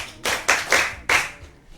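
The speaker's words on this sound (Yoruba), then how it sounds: "ẹ pàtẹ́wọ́ fún iléeṣẹ́ Ship FM." An audience claps hands at a radio station gathering in a few sharp, close bursts of applause that quickly fade into quiet.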